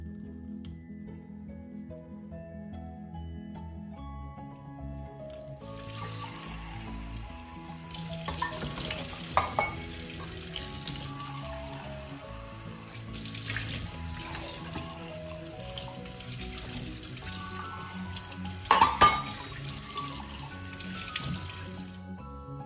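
A copper-coloured kitchen tap runs over the sink while being washed, a steady rush of splashing water with drips and soft squishing handling sounds after a quiet start.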